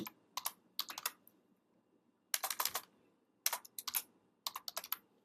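Clustered bursts of crisp clicking from fingers typing on a computer keyboard, four runs of rapid keystrokes separated by short pauses, close and fairly quiet with no talk.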